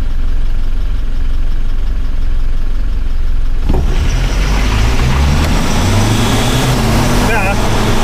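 Toyota Hilux and Mitsubishi L200 pickup engines idle loudly, then roar as the trucks accelerate hard side by side from a standstill, close and rumbling with a rising drone.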